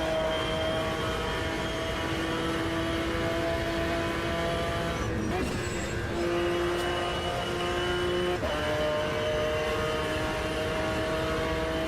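McLaren F1 GTR race car, the racing variant of the F1, in a racing video game, its engine holding a steady sustained tone with a brief shift midway, loud and continuous with no talk.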